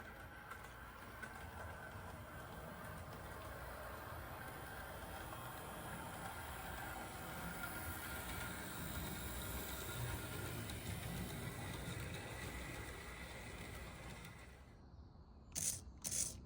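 A model railroad train runs steadily with a continuous, even rumble and hum, then drops away near the end into a few brief clicks.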